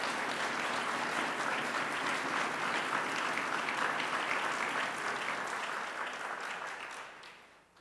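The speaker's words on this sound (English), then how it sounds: "We want a resounding applause for fourth place." Sustained, dense applause from a large audience at a Caribbean students colloquium awards ceremony greets the fourth place team from Jamaica, holding steady and loud before tapering off in the final second.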